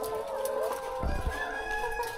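A layer-breed rooster gives a crow up close, its drawn-out call sitting over a steady hiss of background noise, with a short low thump partway through.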